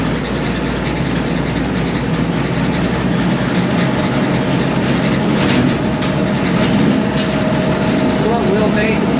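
A 1955 Jeep CJ5 drives in overdrive on a bumpy road, with a loud, steady engine and road roar continuing without a break throughout.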